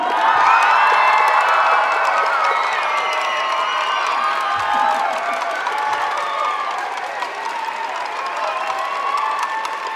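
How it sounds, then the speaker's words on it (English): An audience at a city choir performance cheers and whoops loudly with some clapping, a dense sustained roar of voices including high-pitched shouts, continuous throughout. "A big cheer for Dee."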